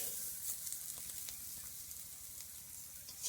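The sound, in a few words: mushrooms frying in pan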